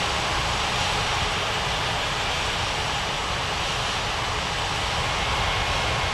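Aircraft jet engine roaring steadily on takeoff in an air traffic control video game, a loud, continuous broadband rumble and hiss held at even intensity throughout, with no talk over it.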